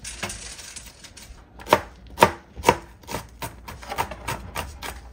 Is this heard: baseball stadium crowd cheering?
no